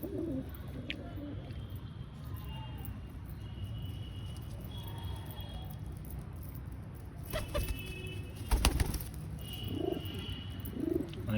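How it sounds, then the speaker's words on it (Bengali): Domestic pigeons kept at home, mostly Madras breed with a few white-eyed birds, cooing softly at close range with low murmuring calls, plus a short louder flurry of movement midway. "দেখে নাও বাড়িতে কী কী পায়রা আছে।"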